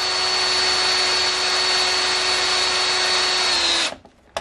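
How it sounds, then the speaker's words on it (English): A power drill runs steadily at high speed with a constant whine while drilling into an air rifle bipod, then cuts off abruptly near the end. "Start drilling."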